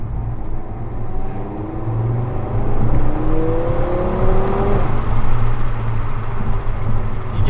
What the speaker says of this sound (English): it's glorious when you get on it. Wow, it is a sensation driving this car.